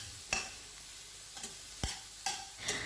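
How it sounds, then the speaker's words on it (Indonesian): Bamboo shoot filling for lumpia being stir-fried in a pan, heard as a few sharp spatula scrapes and clinks spaced irregularly over a faint steady sizzle, close and fairly quiet. "terus aku oseng-oseng sebentar supaya airnya keluar dan menguap"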